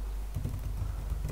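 A terminal command being typed on a computer keyboard, a short run of soft close-up key taps, fairly quiet and without talk.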